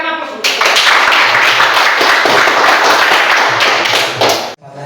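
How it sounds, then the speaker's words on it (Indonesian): Applause in a classroom for a student group about to present, dense loud clapping from many hands sustained for several seconds before stopping abruptly, with a voice briefly heard. "Berikan aplaus."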